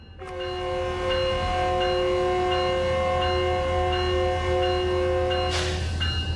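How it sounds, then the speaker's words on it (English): Metrolink F125 locomotive in Train Sim World 5 sounding a sustained loud chord horn over steady engine rumble for several seconds, cutting off near the end with a sharp burst. "And then you can turn off the bell again."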